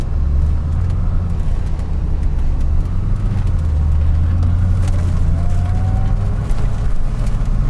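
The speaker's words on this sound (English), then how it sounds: "That's a lot of traffic." Steady road traffic heard from inside a moving 1990 Chevy Corvette ZR1, a constant low rumble of engine and tyre noise that stays loud and unbroken throughout.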